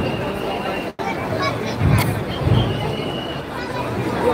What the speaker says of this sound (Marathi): तर ही कसबा गणपतीची इथे खूप गर्दी आहे.